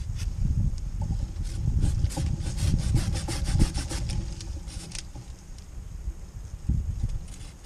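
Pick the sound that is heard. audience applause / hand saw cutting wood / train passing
hand saw cutting wood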